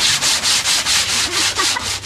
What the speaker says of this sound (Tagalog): Gandahan ng liha ha.